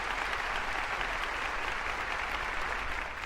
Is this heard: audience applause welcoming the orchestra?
yes